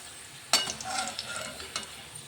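Green chilies sizzling in hot oil for a poha flattened-rice mixture, a steady quiet crackle broken by sharp stirring scrapes and clinks, with no talking.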